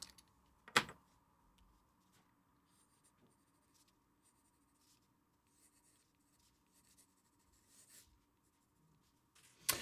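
A gold Lamy fountain pen glides over paper with faint, soft scratching strokes that continue quietly throughout, with a couple of sharper taps near the start and end.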